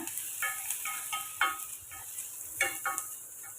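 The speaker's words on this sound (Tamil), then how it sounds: "இதை சேர்த்து 1 நிமிஷம் வதக்கி விட்டுக்கோங்க" Soft sizzling of chopped tomatoes and vegetables sautéing in a pan for upma, with a few scraping stirs and light clatters at irregular moments; steady hiss throughout, no talking.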